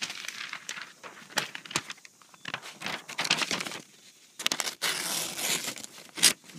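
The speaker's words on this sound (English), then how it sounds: "This one will actually still cut newsprint as well." A budget Real Steel knife slices through newsprint, giving dry crackling, tearing rustles in short uneven strokes, close and fairly quiet, with a louder papery burst near the end.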